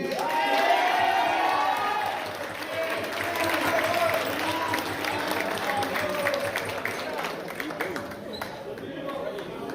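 An audience at a high school basketball award banquet claps and cheers while an award winner walks up, a sustained crowd roar with a person talking over it throughout.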